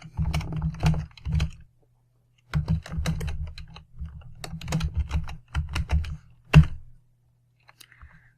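Bursts of rapid clacking keystrokes on a computer keyboard, close and dry, typed in uneven runs separated by short pauses and a longer silence.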